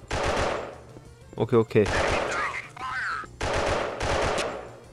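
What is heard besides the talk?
gunfire support shooting in mobile video game Special Soldier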